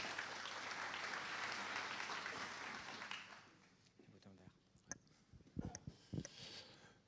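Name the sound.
audience applause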